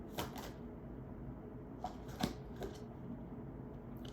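Tarot cards are shuffled and drawn, giving soft papery riffles and a few light flicks and taps at irregular intervals; faint and close in a quiet room with no talking.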